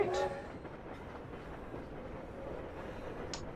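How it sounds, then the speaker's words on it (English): A ghost train chatters its way down the tracks at a steady, faint rumble, with a brief higher squeal near the start and another near the end. "they can still hear the train chattering its way down the tracks"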